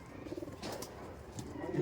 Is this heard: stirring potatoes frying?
no